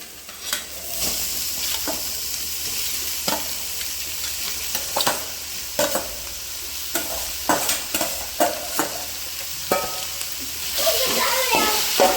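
Crumbled vanjaram (seer fish) frying in a pan, a steady sizzle broken by sharp scraping stirs every second or so, close and clear, with voices talking faintly in the background.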